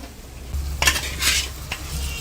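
Pre-fried chicken for a drumstick chicken iguru goes into a pan and is stirred, making a few sharp utensil scrapes and clanks over a low sizzle, with no talking.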